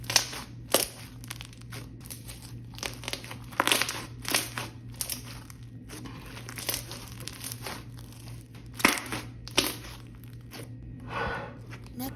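Pear Berry slime squeezed and played with by hand, a run of close crinkly, crackling squishes and pops in irregular bursts, fairly quiet against a low steady background hum.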